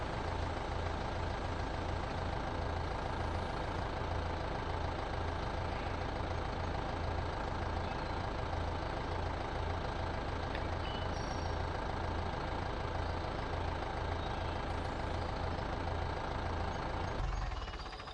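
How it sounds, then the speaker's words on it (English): A tractor engine runs in Farming Simulator 15, a constant loud droning rumble with steady low throb and no change in volume throughout, no speech. "I hate having to sit in my tractor and it run all the time too."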